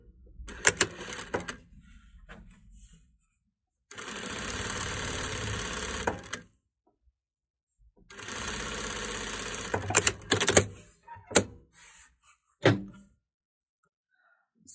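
A sewing machine stitches down a folded quarter-inch hem on the pocket of a fabric face mask, with two sustained close-up runs of steady motor whirring separated by silence and a few sharp clicks.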